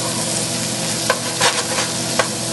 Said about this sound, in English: Now to that, I'm going to be adding the garlic.